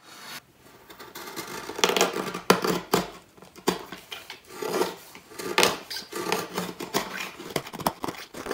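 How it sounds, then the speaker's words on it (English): A knife shaves wood while roughing out a viola neck, making close, rasping strokes in uneven bursts with short pauses between cuts. "And now I have all my wood here. And this I'm gonna take away with my knife, like this"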